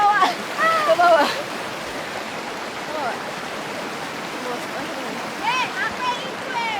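River stream flowing near a maleo bird sanctuary in Saluki village: a steady, broad rushing wash of water fills the whole stretch, with brief chirps and light voices rising over it at the start and near the end.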